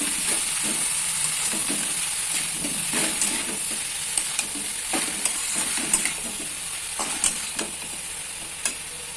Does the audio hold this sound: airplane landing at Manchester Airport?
no